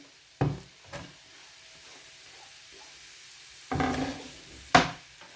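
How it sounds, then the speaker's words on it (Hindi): Potatoes and onions fry on a low flame for a Spanish omelette, a soft steady sizzle broken by a few distinct knocks and scrapes of a utensil stirring in the pan. "3 से 4 मिनट अच्छी तरह से फ्राई करेंगे।"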